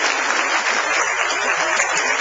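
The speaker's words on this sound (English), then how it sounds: "You betcha me deserve a round of applause." Applause from a dinner audience at the Ripples of Hope Dinner, a steady dense wash of clapping filling the room, even and sustained without pauses.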